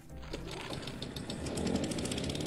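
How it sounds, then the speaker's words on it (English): Lawn mower switched on in the Cat Simulator video game, a rapid buzzing engine chatter that rises slightly in loudness over a couple of seconds with no talk. "I think I just turned the lawnmower on"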